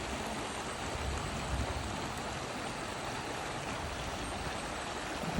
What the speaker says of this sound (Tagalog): Ito, pakinggan muna natin yung ilog.